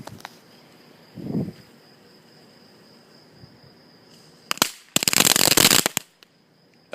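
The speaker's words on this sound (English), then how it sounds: "We're doing some fireworks right now." Backyard consumer fireworks go off at night: a short low pop, then a sharp crack and a dense, loud crackling burst lasting about a second, amid a steady background of chirping insects.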